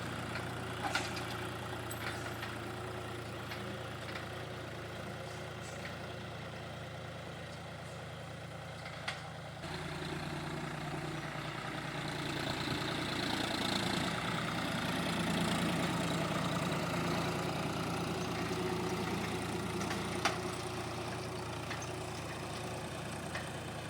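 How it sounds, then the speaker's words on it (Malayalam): A tractor plowing a field drones steadily throughout, a low rumbling idle that shifts slightly partway through, with faint clatter over the top and no voices. "ഇങ്ങനെയാണ് ട്രാക്ടർ ഉഴുത് പറിക്കുന്നത്"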